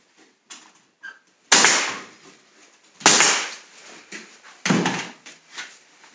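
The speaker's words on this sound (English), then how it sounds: "that allows us to use that pressurized air to fire a small nail" A pneumatic brad nailer fires small nails three times, each a sharp, loud bang with a fast burst of air, separated by quieter clicks and handling noise.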